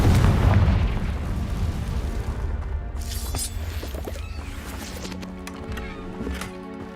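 Confringo blasting spells explode in the game Hogwarts Legacy, opening with a loud, booming blast that rumbles and fades, followed by sharper magical bursts and sustained tonal game sounds.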